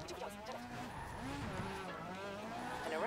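Car drifting in Forza Horizon 4, a tire squeal wavering and sliding in pitch over a steady engine drone, with people talking over it throughout.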